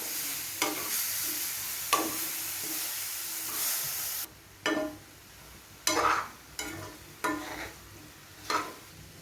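Fried yam pieces and coconut paste stirred together in a pan: a dense frying hiss for a few seconds, then a run of distinct scraping strokes of the spoon against the pan, close and with no voices.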